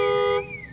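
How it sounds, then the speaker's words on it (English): A brief electronic alarm tone rings steadily, then cuts to a fainter wavering electronic whine. "The alarms are ringing."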